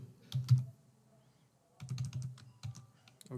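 An email address is typed on a computer keyboard, two quick bursts of close, crisp key clicks separated by a brief pause, with a low murmur underneath.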